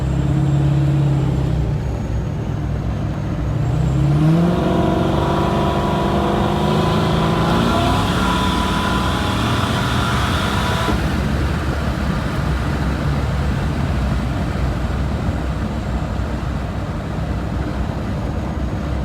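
An engine at full throttle during a block-splitting pull, a loud, continuous roar that rises in pitch early on and then holds steady, close and without talk.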